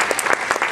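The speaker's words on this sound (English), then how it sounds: "Let's give a round of applause to Mary Pat." A brief burst of audience applause for a woman named Mary Pat, a short patter of clapping hands in a room.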